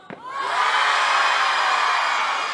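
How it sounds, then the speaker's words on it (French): Audience at a cosplay contest in Rouen shouting loudly together, a sustained roar of many voices with cheering and whoops rising quickly and holding steady at full volume. "Est-ce que ceux devant, vous pouvez crier super, super fort?"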